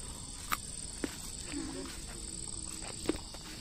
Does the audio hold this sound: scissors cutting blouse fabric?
no